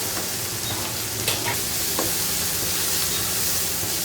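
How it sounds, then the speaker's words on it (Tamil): Chopped tomato sautéing in a pan with onions for a South Indian fish curry, giving a steady, close, loud sizzle and hiss that runs throughout with no talking. "அடுத்து வந்து தக்காளி, ஒரு தக்காளி தான், அது கட் பண்ணி எடுத்து வச்சுருக்கோம் இல்லையா, அது இதோட போட்டுருங்க. போட்டு நல்லா வதங்கிடணும்"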